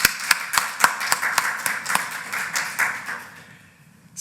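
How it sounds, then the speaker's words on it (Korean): A church congregation at a Wednesday worship service claps in a steady rhythmic burst of sharp, fairly close hand claps that gradually thin out and fade toward the end. "우리 박수 한번 칠까요?"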